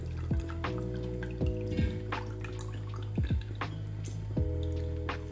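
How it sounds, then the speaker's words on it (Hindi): Cold water pours into freshly made chhena (cottage cheese) in a kitchen, giving a close, steady trickle broken by several brighter dripping splashes, with no talking. "हम इसमें ठंडा पानी डालेंगे।"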